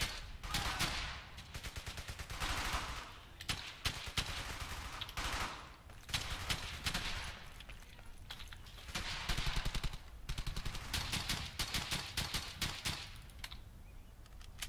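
Machine gun fire crackles through a World War II firefight in the game Brothers in Arms, with dense rapid bursts of automatic gunfire and overlapping shots that continue almost without pause, loud and chaotic.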